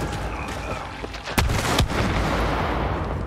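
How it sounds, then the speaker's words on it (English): Nests exploding in the video game It Takes Two, two sharp booming bursts a moment apart over a busy background of game sound. "Yeah, they explode when you get close to them."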